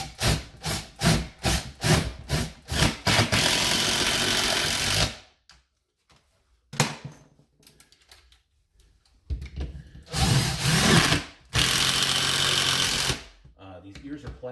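Screws driven into a radiant floor heating mount in a garage being converted to living space: a power driver whirs in rapid pulses, then runs steadily, stops, and gives several more bursts with quiet gaps, close and loud.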